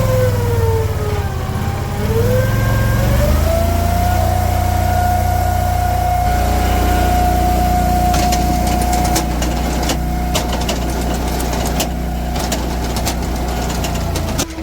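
An Eastonmade Axis log splitter engine with automatic idle, a loud, close steady drone that rises in pitch and settles into a constant run, with clanks and knocks joining later.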